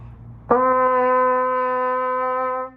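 A single sustained trumpet note, played with the first and third valves pressed, clear and steady with rich harmonics, held for about two seconds before stopping; played alone, close up.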